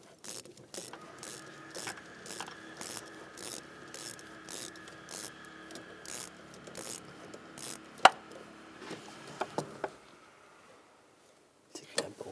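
A T25 socket works bolts loose on the expansion valve of a 2010-2017 Chevrolet Equinox, giving a steady run of quick, close ratcheting clicks that pause near the end, with a sharp metallic clink partway through.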